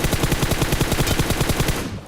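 Sustained automatic gunfire in the video game BGMI, a rapid string of loud, evenly spaced shots rattling close by for about two seconds before cutting off, with no voices.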